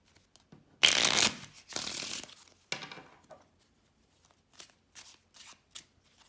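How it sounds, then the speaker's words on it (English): A deck of playing cards being shuffled up close, two loud riffling bursts followed by softer scattered flicks and taps of cards being squared and handled. "hand them the deck of cards and have them shuffle as much as they want"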